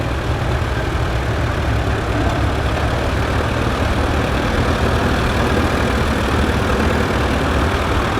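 A 1946 Allis Chalmers WC tractor fitted with WC cultivators idles steadily at an outdoor antique steam show in Maryland, its low, even engine drone continuous and fairly close, with no talk over it.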